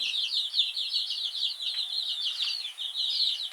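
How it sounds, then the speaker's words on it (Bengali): Young laying hens kept in a box give quick, high clucks and chirps, rapid and continuous, close by, with no talking. "আমাদের এই যে সেই ছোট্ট ছোট্ট মুরগিগুলো যে আনা হয়েছিল ডিমের মুরগি"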